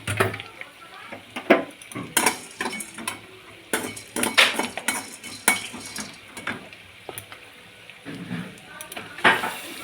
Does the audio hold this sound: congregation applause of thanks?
no